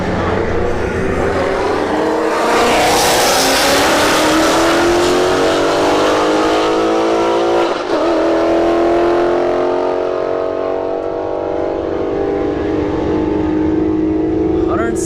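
Drag racing cars, including a Ford Mustang reaching 117 mph, accelerate hard down the strip with a loud, rising engine roar that sweeps upward through the gears and stays continuous and close throughout.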